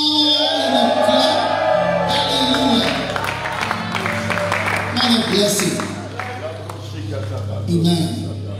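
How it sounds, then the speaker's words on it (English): A church congregation at Catch The Anointing Centre in Obuasi shouts and claps together, a dense crowd of raised voices over a steady rhythm of hand claps and a constant low hum, lasting throughout. "Give the Lord a shout and a clap"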